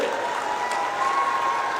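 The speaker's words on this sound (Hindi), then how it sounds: "जरा जोर से ताली बजाओ कुमार जी के लिए" A crowd at an outdoor BJP election rally in Simaria, Chatra applauding candidate Kumar Ujjwal Das, a steady wash of clapping at moderate loudness with a faint tone carrying over it.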